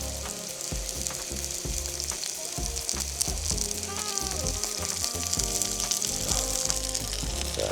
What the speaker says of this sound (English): Electric frying pan's ready. We'll cook it up.